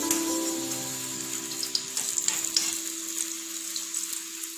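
Soybean koftas frying in hot oil give a steady, close sizzle with soft crackles throughout, faint tones fading out early on and no voices.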